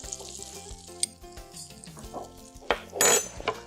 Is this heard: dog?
no